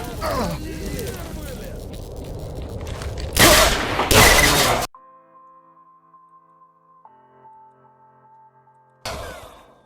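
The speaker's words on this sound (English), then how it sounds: "I heard gunshots." Gunfire in the shooter game Stalker, Narodnaya Solyanka mod: loud sharp bursts of shots and blasts early on, then near silence with a faint tone, before another loud burst at the end.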